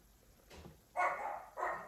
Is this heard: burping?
no